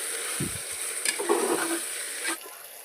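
Chopped tomatoes sautéing in masala paste in a pan for Maharashtrian masala bhat give a steady close sizzle and frying hiss, broken by a few soft stirring scrapes, with no voices.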